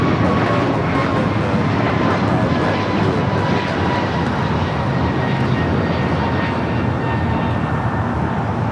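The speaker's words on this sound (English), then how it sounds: "This is American Airlines 1086 taking off to Miami, Florida off the A321neo" American Airlines Airbus A321neo airliner taking off from Los Angeles airport, a loud steady jet engine roar holding throughout with broadband rumble and no talk.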